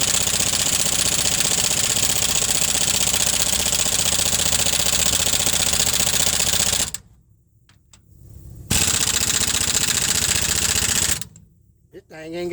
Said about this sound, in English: Let me let my compressor cut off and then see what we got.